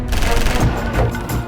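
Rapid bursts of gunfire sound effect in a comedy police-station drama, loud and close, a dense rattling volley over about a second and a half.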